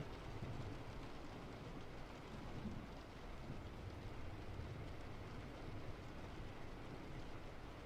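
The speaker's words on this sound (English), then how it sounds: "If the rain sounds too loud, or if it's too quiet" Rain falls as a faint, steady hiss in the background of a quiet indoor room, with an even texture and no distinct drops or pauses.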